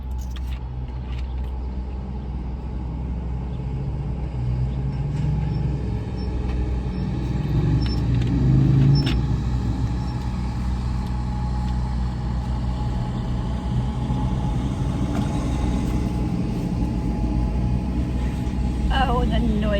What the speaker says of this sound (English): Oh, the noisy traffic.